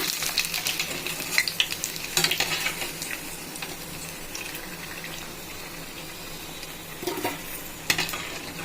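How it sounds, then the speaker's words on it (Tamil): Store-bought ready-made puris deep-frying in hot oil, a steady close sizzle with occasional louder crackling bursts and bubbling, no voices. "எண்ணெய் ஊற்றி நான் ஒன்று ஒன்றா போட்டு வறுத்துக்கிறேன்"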